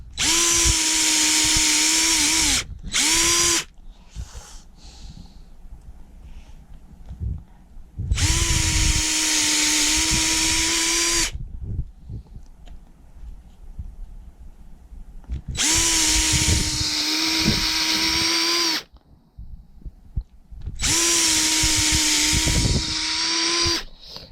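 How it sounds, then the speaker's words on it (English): A power drill whines in four long bursts drilling holes into a wooden log, loud and close, separated by pauses filled with quieter handling noises and scraping. "So I'm just going to drill out the rest of the holes on this particular log"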